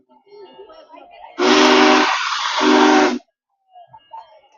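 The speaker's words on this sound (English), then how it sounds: "the first set of whistles you heard was for the rail fans" A loud steam locomotive whistle blows for about two seconds at a station stop in Marysville, dipping briefly in the middle, with faint background sounds before and after.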